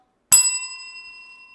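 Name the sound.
bell rung to end a round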